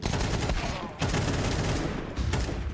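Pistol gunfire from a professional Counter-Strike 2 match, a dense run of rapid shots crackling almost continuously over loud game ambience and faint commentary.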